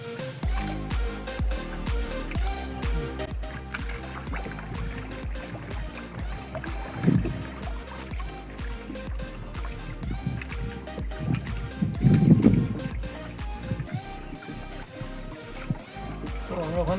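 A rowing boat moves along a river at Mukutmanipur, with gentle water sloshing and trickling against the hull and a few louder splashes from oars, under a steady outdoor background.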